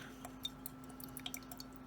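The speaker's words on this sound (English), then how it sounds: "now I'm going to add water to this bottle and mix it in with the Mod Podge" Water is poured into a bottle containing Mod Podge, giving a quiet run of small drips and splashes with light clinks over about two seconds.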